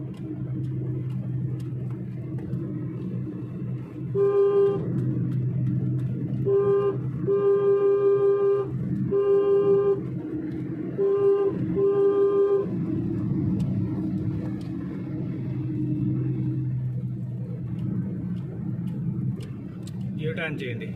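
A Chevrolet Beat with a 1200cc engine cruises along a highway, its steady low engine and road rumble continuous throughout, broken midway by several repeated horn toots; people talk inside the car over the drone.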